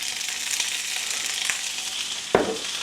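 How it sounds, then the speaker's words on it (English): Asparagus spears sear in oil in a pan, making a steady close hiss with faint pops and one sharper clack near the end, with no voices. "we're simply looking to get a good sear all the way around on our asparagus spears"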